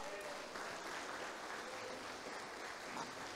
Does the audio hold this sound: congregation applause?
yes